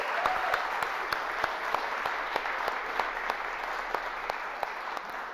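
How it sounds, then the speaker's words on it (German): An audience in a university lecture hall applauds a new professor with steady, dense clapping that carries evenly throughout, with no speech over it. "Einen Applaus für unseren neuen Professor Riemes"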